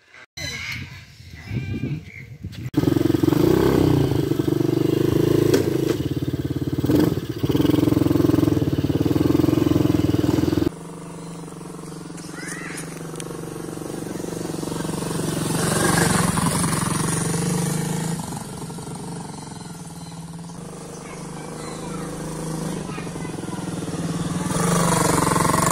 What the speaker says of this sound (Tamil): இப்போ நம்ம என்ன பண்ண போகிறோன்னா குவாட் பைக் ஓட்ட போகிறோம்